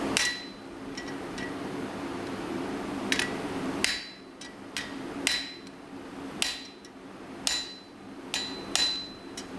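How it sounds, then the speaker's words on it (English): A set hammer used as a flatter is struck on metal to smooth a bottom plane, giving sharp, ringing metallic blows at an irregular, then steadier pace, about ten strikes, close and loud. "I'm essentially using the set hammer as a flatter to smooth out that bottom plane"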